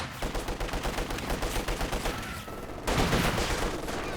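Dense machine gun fire from Company of Heroes 2, rapid continuous bursts of rattling shots layered with battle noise, surging louder near the end.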